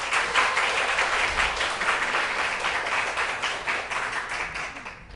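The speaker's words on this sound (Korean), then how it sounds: "격려하는 의미에서 박수 한번 합시다" A church congregation applauds the Gyemyeongseong choir after its hymn during a Sunday morning service, a dense, even wash of hand clapping from many people in a hall that gradually thins toward the end.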